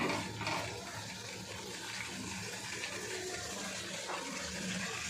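Spice-rinsing water poured into a masala in a pan on a strong flame, a continuous splashing, hissing wash lasting several seconds close to the microphone, with no voices.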